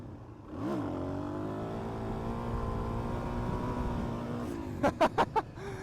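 A motorcycle engine revs up and holds a steady high drone during a second gear wheelie, moderately close, then settles before a few short sharp knocks at the end.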